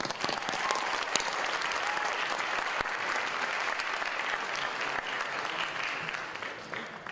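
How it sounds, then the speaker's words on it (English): High school auditorium audience at an honor society induction applauding a speaker, a sustained dense round of clapping with a few sharp nearby claps, steady then tapering slightly at the end. "Another round of applause for Goldberg"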